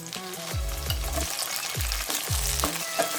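Tomatoes go into a pan of lightly fried onions for a mixed vegetable bhaji, loud sizzling frying with repeated low scraping stirs at a steady rhythm, close up and with no talking.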